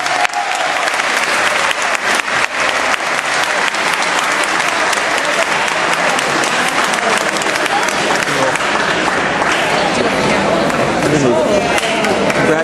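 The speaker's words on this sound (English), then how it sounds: "that deserves your applause" Parents and guests at a school soccer banquet give loud, sustained applause with some cheering, a thick continuous clatter of clapping and voices mixed in the crowd.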